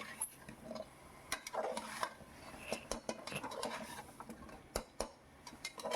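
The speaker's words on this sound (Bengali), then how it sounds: "বেশ ভালো করে আমি চিকেনের সাথে মশলাটা কষিয়ে নিচ্ছি" A metal spoon scrapes and clinks against a pan while large chicken pieces are stirred and fried with spice masala for a Kolkata-style chicken stew, giving irregular close taps and scrapes over a soft background sizzle.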